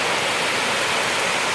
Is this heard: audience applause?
no